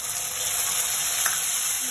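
Tomatoes hitting hot oil with softened onions in a pan, cooked for tomato khichdi, give a steady close sizzle with faint stirring scrapes throughout, no voices.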